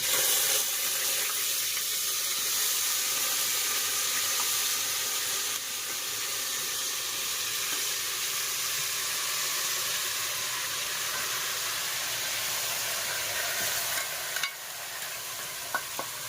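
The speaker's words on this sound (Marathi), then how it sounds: "चिकन आपण मिक्स करून ठेवलेला मीठ मसाला लावून ते आपण आता त्यात टाकूया" Marinated chicken rubbed with salt and spice paste sizzles loudly in a pot of frying whole spices for chicken biryani, a steady dense hiss throughout with occasional stirring scrapes near the end.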